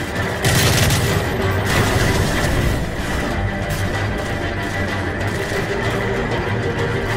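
Dense gunfire and explosions from Call of Duty Modern Warfare 3, loud continuous volleys with booms and crashes layered together, a sustained chaotic battle din without pause.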